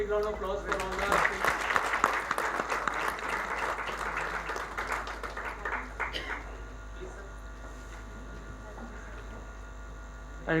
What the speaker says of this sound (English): a big round of applause for all the